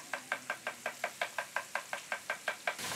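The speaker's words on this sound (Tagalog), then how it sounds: "Ang tunog na ito mula sa pagpukpok nila sa patpat na konektado sa bao ng nyog" Rapid, evenly spaced hollow knocks, about a dozen in a steady rhythm, from a stick striking a coconut shell, fairly close and clear, in Sarangani, Philippines.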